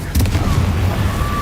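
Confringo blasting spell explosions in Hogwarts Legacy, a sharp burst followed by rumbling booms and crackling blasts, loud and close, with a voice shouting over them.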